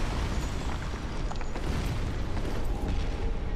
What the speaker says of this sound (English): Exploding bolts.